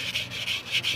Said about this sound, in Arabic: صنفرة يا جماعة ناعمة اهي زي ما احنا شايفين اهي، صنفرة ناعمة وناعمة جدا كمان عشان اقدر انعم